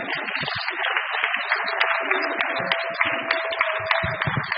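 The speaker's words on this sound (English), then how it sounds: "You can applaud." Audience applause at a church Sunday presentation, a steady wash of many hands clapping that fills the whole stretch at moderate level without talk.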